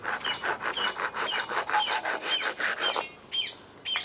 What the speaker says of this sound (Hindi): अब मैं इन दोनों के बीच में, इन दोनों सुराखों के बीच में मैं यहाँ आरी चलाऊँगा